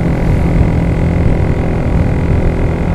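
A Rouser NS125 manual motorcycle engine pulls in fifth gear, a loud, dense, steady drone heard close up for the whole stretch without speech.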